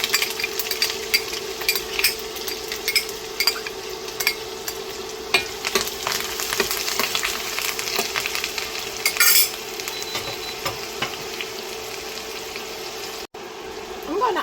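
Onion sautéing in melted butter and oil, a steady close sizzle with occasional stirring scrapes and clinks, while a voice talks over it.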